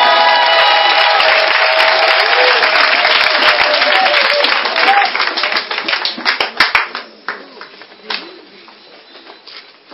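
A church congregation claps and cheers for Jesus, a dense loud wave of applause and voices that holds steady, then thins into scattered, fading claps toward the end.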